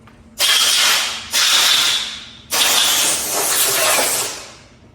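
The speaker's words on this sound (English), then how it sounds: "Spray bottle lube of oil." Three hissing bursts from a spray bottle of oil lube on a Ford Coyote V8 engine, close and loud, the last one held longer before trailing off.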